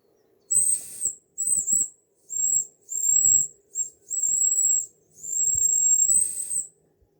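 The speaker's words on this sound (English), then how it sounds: "The whistle's quite loud, so you should hear it" A Mamod toy steam traction engine's whistle blows high and thin in several short and longer toots, close and piercing, with faint mechanical clatter underneath.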